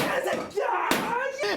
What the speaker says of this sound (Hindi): दरवाजे पर मुक्के मारे और चीखने लगा